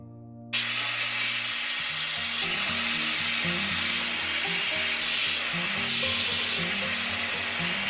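A handheld hair dryer switches on after a brief moment and blows with a loud, steady, rushing whoosh for the rest of the time, with faint tonal music underneath.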